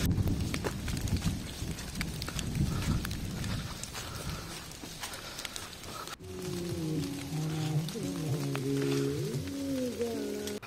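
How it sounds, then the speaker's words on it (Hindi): Rain falls steadily on the Roopkund trek in the Himalayan meadows, a dense patter for several seconds before music takes over. "बारिश शुरू हो चुकी है"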